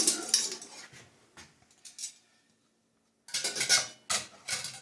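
A lid being set back onto the tank of a volumetric lotion filler, heard as a few short metallic clinks and scrapes, then a quiet pause, then another cluster of louder clattering contacts, close by and with no talk.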